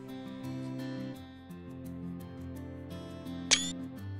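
A single crisp camera-shutter click from a screenshot in the farming game Farm Manager 2018 cuts through steady background game music near the end.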